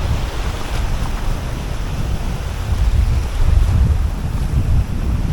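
Water comes in with the rising high tide at a fishing spot, surging waves and current churning close by under heavy gusts of wind buffeting the microphone, loud and continuous with no speech.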